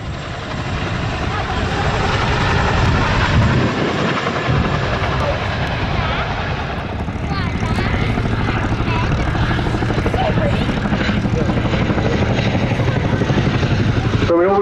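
A 16.5 ton helicopter flying low at the Duxford summer airshow gives a loud, continuous rotor and turbine roar, with its tone shifting slightly as it manoeuvres and a commentator talking over it.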